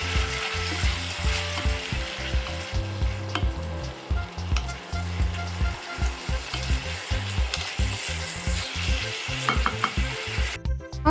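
Soybean chunks fry with salt and a little turmeric in a hot pan, a steady close sizzle broken by repeated rhythmic scrapes and stirs of the spatula, with no talking.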